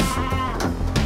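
Adult sheep and lambs bleating together in a pen during shearing time, with overlapping loud, close bleats filling the whole moment and no talk over them.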